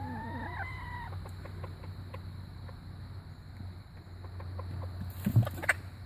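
A chicken clucks and squawks nearby, a few rising calls at the start and a sharp burst of squawking near the end over a low hum.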